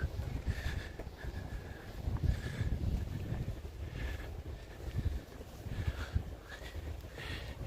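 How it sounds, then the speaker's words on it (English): Steady low wind rumble buffets the microphone throughout on a street in Shinjuku, Tokyo, with gusts swelling and easing under a faint higher hiss. "It is a bit windy actually"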